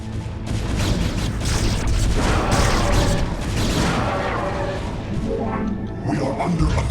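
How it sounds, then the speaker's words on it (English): Protoss photon cannons firing in StarCraft: Remastered, a dense, loud barrage of booming blasts and crackling impacts that rolls on continuously, with game battle noise thickening and then thinning toward the end. "Those cannons are performing admirably."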